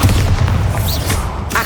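Spell explosions from Bombarda and Confringo in the Hogwarts Legacy video game, heard as loud booming blasts that overlap in a dense rumbling burst, close and forceful.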